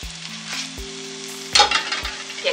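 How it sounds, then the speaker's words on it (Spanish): Drained potatoes hitting hot oil in a pan, a close crackling sizzle that surges loudly after a sharp clatter midway, with a few low knocks from the pan and no talking. "le voy a poner un poco de aceite y agrego las papas que ya están escurridas"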